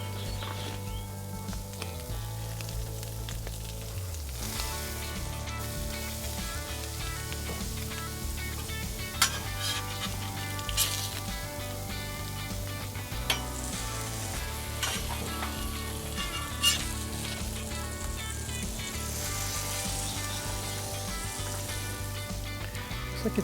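A grilled cheese sandwich made with hard Pecorino Romano cheese sizzling in a pan, a continuous close fry under background music, with a few sharper clatters from flipping.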